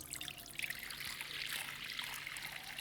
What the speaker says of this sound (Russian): Для того, чтобы отмерить соль, наливаем приблизительно половину этого кувшина, это будет литр.